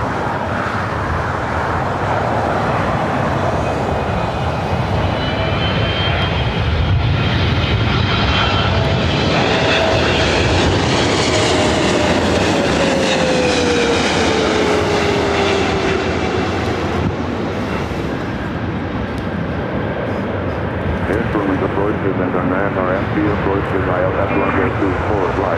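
Boeing 777-300ER arriving from Taipei lands on the north side at LAX: a loud, sustained jet engine roar with a slowly falling whine, steady throughout and close, with voices talking at times over it.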